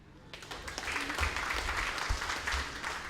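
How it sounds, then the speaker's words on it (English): At a 2011 national school debate final, the audience claps for a student speaker from Sir Tei Abal Secondary, a modest, steady patter of many hands that swells slightly after a quieter start. "Round of applause for the second speaker of Tei Abal Secondary, Loretta Ephraim."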